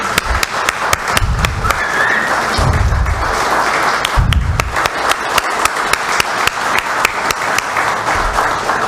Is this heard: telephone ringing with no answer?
no